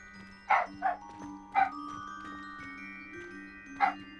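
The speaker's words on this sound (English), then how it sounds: "the dog's going a bit mental at the moment" A dog barks indoors in a room, with a few sharp, fairly close barks in quick bursts, a pause, then one more bark over a steady low electrical hum.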